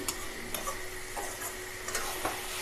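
A spoon stirs spinach and chickpea greens with a spoonful of sugar in a pan, giving soft scraping strokes and light clinks over a faint sizzle, with no talk.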